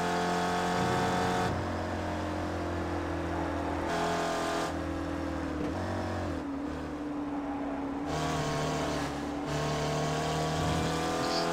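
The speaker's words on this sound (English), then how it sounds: "Just hear those tires squealing" Race cars in a racing video game at New Jersey Motorsport Park's Thunderbolt circuit, engines droning steadily with tones rising and dropping through gear changes, sustained loud throughout with no talk.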